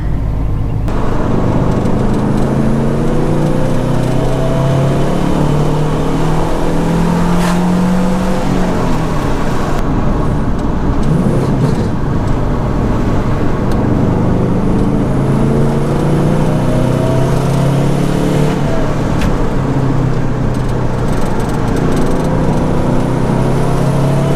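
A turbo-swapped Subaru Impreza engine roars loud and close at wide open throttle, a steady, sustained drone with rising and falling pitch sweeps that keeps going without a break.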